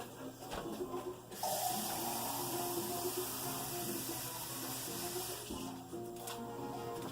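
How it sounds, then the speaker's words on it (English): A can of water is poured into a cooking pot for rice pudding, a steady splashing hiss that starts abruptly and runs for several seconds before fading. "We're going to use the same can to add 1 can of water."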